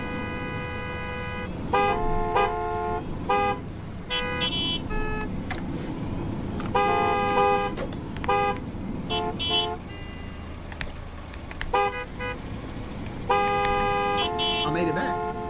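A blue car in a gas station simulator game honks repeatedly in short and longer beeping bursts over steady engine hum, the horns loud and close while someone talks throughout.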